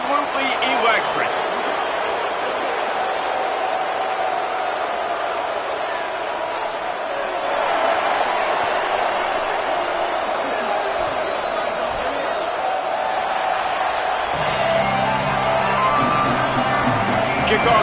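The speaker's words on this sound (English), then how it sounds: "the crowd is making this house absolutely electric" Crowd at an indoor football game, a dense roar of cheering filling the arena steadily, with a commentator talking over it.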